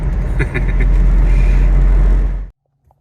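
A truck passes close by on a rough African road, its loud low rumble and engine roar filling the air before cutting off abruptly into near silence.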